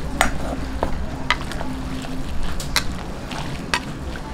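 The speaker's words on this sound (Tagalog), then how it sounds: "Ayan, halu-haluin lang po natin." Pancit canton noodles being stirred in a frying pan, giving a steady close sizzle with scattered clinks and scrapes of the utensil against the pan; no talking.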